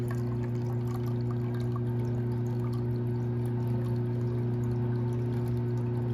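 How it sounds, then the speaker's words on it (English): Water is pumped steadily into a measuring cup, a constant rushing pour over a low mechanical hum, with no breaks. "you're gonna push the arm back down and that'll pump the water out"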